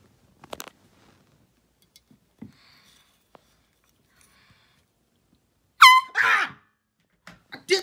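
An air horn in a comedic bedtime puppet skit gives two short, loud blasts in quick succession after a stretch of near silence broken only by faint clicks and taps.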